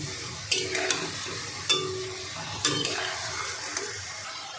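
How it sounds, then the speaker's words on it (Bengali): Homemade chira kurkure, flattened rice snacks, deep-frying in oil with a soft bubbling sizzle, broken by a few sharp clicks of a utensil stirring against the pan. "এটা বেশ খানিকটা ধরে ভাজতে হবে, একদম মুচমুচে হওয়া পর্যন্ত ভাজতে হবে"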